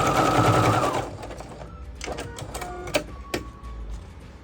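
A sewing machine backstitches at both ends of the fabric for a men's African eketé (filá) cap. It opens with a loud, fast whirring run, then eases into lighter, slower stitching taps close by.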